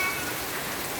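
Steady rain pours down outdoors, a dense unbroken patter of drops striking a surface, loud and close for the whole moment with no voices.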